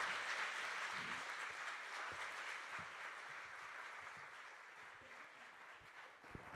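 An audience applauds steadily as speakers come on stage at a climate event. Continuous clapping from a crowd carries on at an even level throughout, slowly fading a little toward the end.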